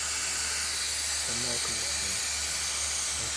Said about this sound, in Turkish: Bu şekilde bir aparatla takıyoruz. Böyle şişirerek havayla.